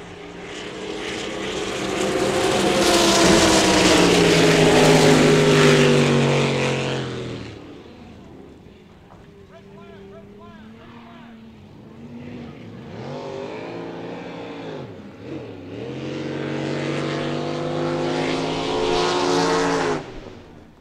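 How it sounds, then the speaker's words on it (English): Supercharged racing boats at a race start, engines roaring loud with turbos winding up in rising whine, fading to a distant lull midway before swelling again as boats pass close. "You can hear the turbos winding up."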